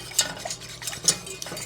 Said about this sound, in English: So I just take a whisk